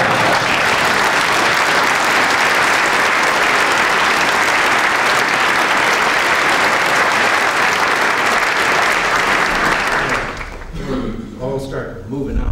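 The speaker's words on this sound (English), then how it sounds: "I won't mind a bit if you applaud anyway" Audience of Republican members of Congress applauding the President: loud, sustained, dense clapping fills most of the clip, then drops away to a voice speaking over scattered noise.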